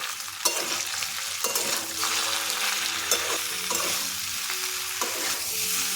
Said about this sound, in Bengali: এখন এই মশলাগুলো দিয়ে কুমড়োটা আরও কষবো।